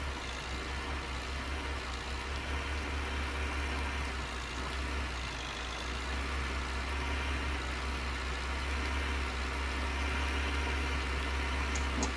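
A tractor engine runs at a steady idle while ploughing grass, a constant low rumble heard from inside the cab with a faint hum underneath.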